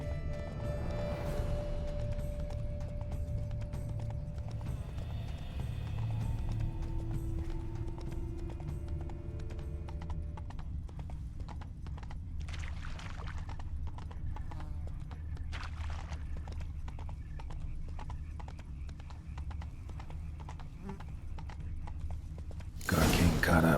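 Hooves clip-clop steadily with an occasional whinny in The Witcher 3: Blood and Wine, under a constant low rumble and some speech, ending in a sudden loud burst.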